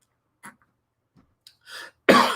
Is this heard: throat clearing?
yes